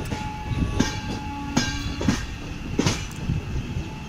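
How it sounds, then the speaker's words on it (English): An MAS AC Express passenger train rolls into Chennai Central in the rain, with a steady rumble of railcars and rhythmic clickety-clack of wheels over rail joints, heard close from on board with no talking. "Now train moving into the Chennai Central with"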